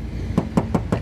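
Four quick knuckle knocks ring out on the metal door panel of a 2016 Toyota Avanza G 1.3 manual, evenly spaced, close and fairly loud, with a hollow tinny tone.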